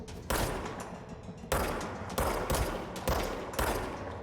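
Video-game gunfire from a shooter: several sharp, loud bursts of shots at irregular intervals, each ending in a short decaying tail, with no voices over them.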